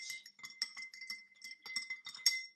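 A spoon stirring green tea in a cup, light rapid clinking and tinkling of metal against the vessel, close and quiet, in an irregular rhythm with no talk.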